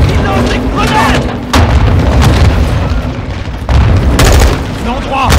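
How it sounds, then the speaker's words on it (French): Grenade explosions during a firefight near trees, heavy booming blasts and gunfire rumbling loud and close, with a few sharper bursts, while voices call out over the din. "Attention ! Ils lancent des grenades !"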